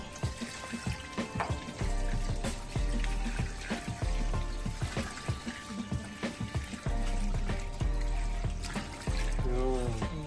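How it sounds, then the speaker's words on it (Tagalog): Water is poured into a cooking pot in bursts, splashing and trickling with clanks of the pot between pours, close and moderately loud, with a voice occasionally in the background. "lalagyan na ng tubig"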